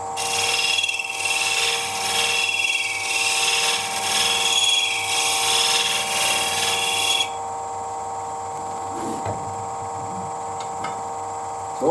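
Wood being scraped on a lathe while shaping a candlestick with a captive ring: a loud, steady broadband rasping over the spinning hum for about seven seconds, then it stops, leaving the quieter drone of the lathe running.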